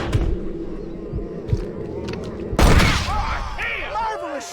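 A sharp gunshot in Red Dead Redemption, one loud crack with a booming tail, following spoken dialogue and then giving way to scattered birdlike chirps and background noise.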